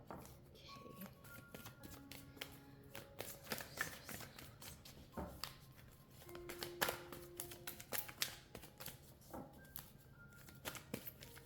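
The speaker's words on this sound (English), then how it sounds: "I'm not going to speak while I shuffle or divvy out the cards" Playing cards being shuffled and dealt for a tarot-style reading, soft crisp riffles and taps close to the mic in an irregular rhythm, with faint background tones and no talking.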